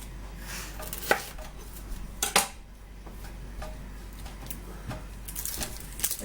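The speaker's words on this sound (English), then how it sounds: "I'm going to go ahead and cut up my onion" A knife chopping an onion on a board, with a few sharp, close cuts spaced irregularly and quiet gaps between them, heard on its own.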